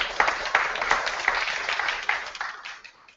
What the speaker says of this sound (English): Only in academia would an acronym get an applause at a lecture